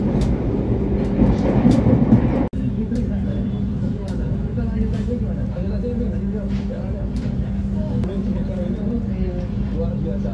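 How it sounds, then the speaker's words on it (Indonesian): The Argo Wilis passenger train on its Surabaya–Bandung run pulls into Bandung station with a steady low rumble and rolling rail noise throughout, and a brief sharp click partway through. "kereta api Argo Wilis melaju dan tiba di stasiun Bandung."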